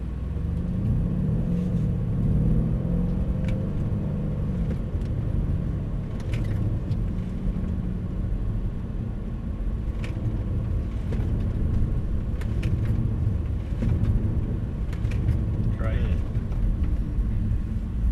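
Silver Mercedes-AMG car pulling away on a race track during a track day, a deep, steady engine rumble close by while people talk over it.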